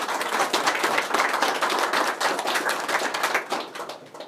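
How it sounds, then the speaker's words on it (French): An audience at an Angular meet-up recap claps for the organisers, a dense crowd of rapid overlapping hand claps, fairly close and loud, tapering slightly toward the end. "ça mériterait quelques applaudissements pour l'organisation du meet-up"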